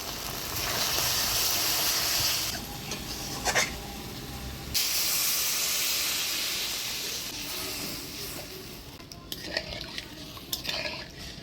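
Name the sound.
water added to frying spice paste, sizzling steam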